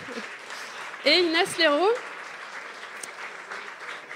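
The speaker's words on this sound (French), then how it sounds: "vous pouvez applaudir" Applause from a conference audience at an ecology talk on whistleblowers, a steady wash of clapping running the whole time beneath a speaker's introduction.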